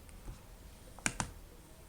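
Two quick, faint computer mouse clicks close together, made while selecting a board in the Arduino IDE.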